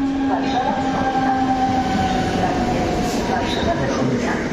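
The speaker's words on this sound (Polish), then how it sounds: "Pociąg Intercity Wantrak ze stacji Poznań Główny do stacji Warszawa Wschodnia" A Pesa Dart ED161 Intercity electric train running on the Poznań Główny to Warszawa Wschodnia route, with a loud, continuous rumble of wheels on rails and a steady tonal hum from the drive. A station announcement voice can be heard over the noise.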